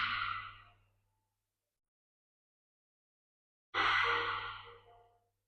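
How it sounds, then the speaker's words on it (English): Two slow breaths pushed out through the mouth during a Pilates session, a soft audible exhale near the microphone, then a pause of silence before a second longer breath out. "Exhale out the mouth."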